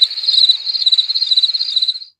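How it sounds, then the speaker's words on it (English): Crickets chirp in a fast, even pulsing trill, loud and close, alone, stopping abruptly after about two seconds. "Like I thought. Crickets,"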